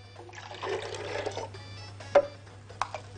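Oil and milk being poured into a blender for a banana cake batter of eggs and vanilla: a soft, steady liquid pour with faint splashes, ending in a couple of brief thuds.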